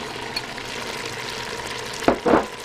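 Five small onions sizzling in a pan for homemade pasta sauce, a steady soft frying hiss throughout, broken near the end by a couple of louder scraping stirs.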